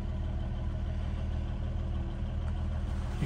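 A 1967 Rover P5 Series 3 with a three-litre engine idles with a smooth, even low hum, steady and fairly quiet with no talk.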